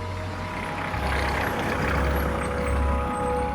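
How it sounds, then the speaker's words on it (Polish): A car passes on a normal road beside a forest, a low steady rumble swelling slightly as it nears, with a faint high tone running alongside. "samochód"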